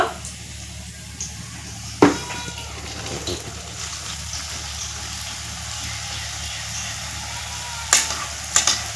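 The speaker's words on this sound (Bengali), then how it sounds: "এখন এই করলাটাও আমি তেলে দিয়ে দেব" Batter-coated bitter gourd fries in oil with a steady low sizzle, close by, punctuated by a few sharp clatters and bursts of crackle as pieces go in and are moved.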